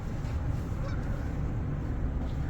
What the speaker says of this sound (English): even the birds are flying home, because it's going to get dark soon